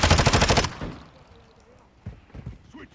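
Rapid automatic gunfire from Call of Duty Modern Warfare II, a loud close burst of evenly spaced shots lasting under a second, then quieter distant shots and faint game voices.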